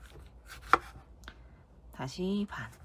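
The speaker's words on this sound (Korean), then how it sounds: "아까 반 자른 거 다시 잘라 볼게요" A knife chops through eggplant on a cutting board in a few close, crisp strokes, with a sharp thud near the start and a longer cut toward the end.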